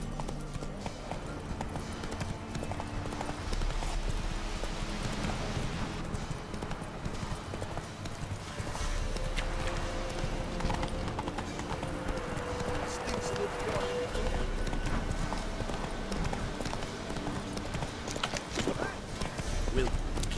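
Horse hooves clip-clop steadily at a gallop in The Witcher 3 video game, a continuous rhythmic pounding that runs the full length under game music and ambience, with voices talking over parts of it.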